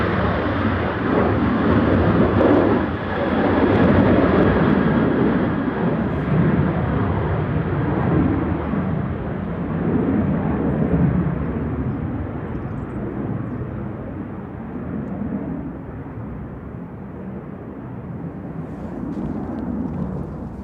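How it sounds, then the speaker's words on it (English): A Ryanair jet bound for Berlin on its takeoff roll and lifting off from Manchester Airport on a gusty day roars loudly, the broad engine rumble slowly fading as it climbs away, with a little talk nearby. "Ryanair to Berlin on the roll here, just lifting off, flight 1145"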